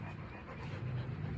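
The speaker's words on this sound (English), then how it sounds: "this is our new puppy." A puppy pants close by in quick, rhythmic breaths with a soft huffing quality, continuing steadily through the moment while no one speaks.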